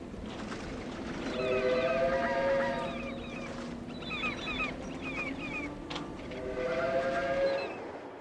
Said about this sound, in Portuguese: Este trem de carga transporta uma expedição de combustível irradiado, proveniente de uma usina nuclear.